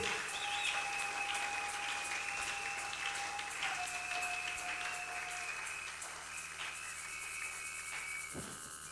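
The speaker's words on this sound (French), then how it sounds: "Acclamez pour Jésus" A congregation claps together in a church service, a steady wash of many hands sustained throughout at moderate distance, with faint tonal whistles or birdlike chirps above it and no talking.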